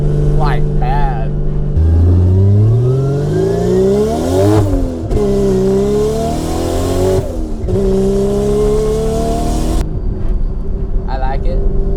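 A BMW E36 fitted with a turbocharged 1JZ engine revs and accelerates on a first test drive, the engine note climbing and falling loudly through several pulls, with brief lifts between them and a quieter idle near the end.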